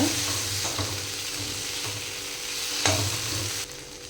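Mushroom masala frying in a pan, a steady loud sizzle with repeated scraping strokes of a spoon stirring, no voices.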